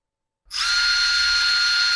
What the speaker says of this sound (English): We'll get these 2 screws running in the bottom of the fuel tank.